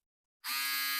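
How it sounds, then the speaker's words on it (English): A Manscaped Handyman compact electric face shaver switches on and buzzes steadily at close range with a bright, high motor whine and no talk. "The Handyman Manscaped Compact Face Shaver"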